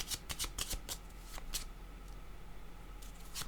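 Tarot cards are shuffled close by in a quick run of riffling flutters and snaps, then a quieter pause before a few more shuffles at the end.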